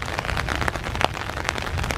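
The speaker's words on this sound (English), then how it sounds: "I don't think this rain is going to let up" Rain patters steadily on leaves and ground in a park on a dark, foggy morning hike, with dense, irregular drops and a few louder splats close by.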